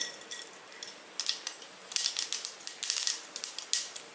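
Mustard seeds splutter in hot oil as a tempering for Madurai-style coconut-free chutney, a close, dense run of sharp crackles and pops that builds in the second half, with no talking.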